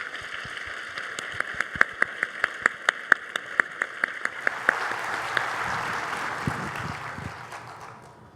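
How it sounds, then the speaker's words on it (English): Audience applause for a conference panel at a lunch plenary, opening with sharp individual claps that swell into a dense, sustained wash of clapping before tapering off. "give a round of applause to the panel"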